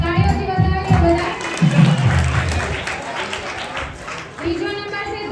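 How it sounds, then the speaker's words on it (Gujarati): A room of children and adults at a student camp in an ashram claps for a student who placed first, a few seconds of applause framed by a person speaking into a microphone. "તાળીઓથી વધાવી લો બધા"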